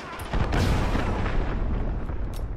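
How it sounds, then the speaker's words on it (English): A cruise missile blast in Call of Duty Modern Warfare, a loud rumbling explosion that swells quickly and rolls on as a dense, sustained roar with a few crackles. "Enemy cruise missile, take cover!"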